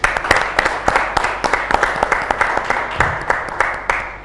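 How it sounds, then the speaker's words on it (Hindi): An audience at a Ramadan naat competition claps for a young contestant, a moderately loud run of individual claps at an uneven but steady rhythm, with a brief low voice murmuring partway through. "आलिया के लिए तालियां जी।"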